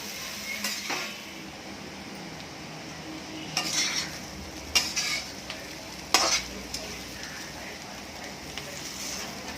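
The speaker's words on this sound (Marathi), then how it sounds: "त्याच्यामध्ये आता आपण कारले टाकायचे. आणि कारले पण चांगले परतून घ्यायचे." Sliced bitter gourd is sautéed and stirred into roasted golden masala in a pan, giving a soft steady sizzle broken by a few scraping and clinking strokes of the spatula.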